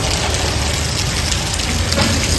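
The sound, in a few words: rain falling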